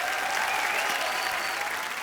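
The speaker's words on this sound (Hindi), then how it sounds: "जोरदार तालियां एक बार वैभवी मर्चेंट के लिए।" Studio audience on a Hindi comedy talk show applauds steadily for a guest, a dense, even wash of clapping that holds at full strength throughout without any voices.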